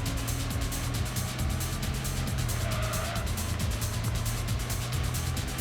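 A car accelerates in a driving video game played on a PS5 controller, a steady engine drone with a faint rising whine and rapid rhythmic pulsing, fairly quiet and without talk.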